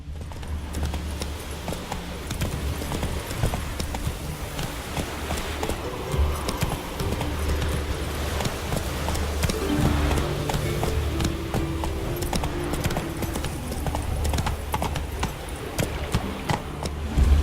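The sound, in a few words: horse Roach galloping in video game Witcher 3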